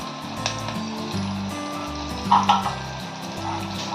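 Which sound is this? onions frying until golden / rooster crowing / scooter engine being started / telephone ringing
onions frying until golden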